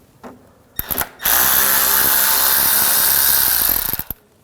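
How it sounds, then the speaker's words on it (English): A power tool with a T25 socket spins out a screw on the radiator and fan assembly of a 2007-2013 BMW 328i 3.0L L6. A few short clicks lead into about three seconds of loud, steady whirring that cuts off abruptly. "Now using a T25 socket, take this screw out."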